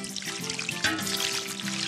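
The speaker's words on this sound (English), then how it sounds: "Soak them with water." Water poured into a bowl to soak craft items on a summer-themed TV show, a short steady splashing pour heard close and alone.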